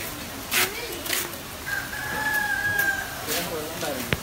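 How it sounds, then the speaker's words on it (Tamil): A rooster crows in a long drawn-out call while chickens cluck and squawk nearby, with a voice talking faintly in the background. "இது எல்லாம் கோழி தான்டா இருக்குது"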